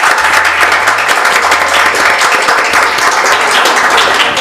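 A church crowd applauding steadily, dense bright clapping throughout, with a low rhythmic musical beat underneath.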